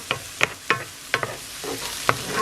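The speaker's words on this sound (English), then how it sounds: "I got it sauteing down." Onion, green pepper and celery sauté in a pan, with a soft sizzle under a series of sharp, evenly spaced scrapes and clicks from stirring, close by and without talk.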